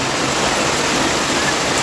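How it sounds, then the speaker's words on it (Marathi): Heavy unseasonal rain with wind and hail pours down as a loud, dense, unbroken roar, close and steady throughout, with no voices. "खूप जास्त आवाज येत असेल तुम्हाला किती पाऊस वाढलाय"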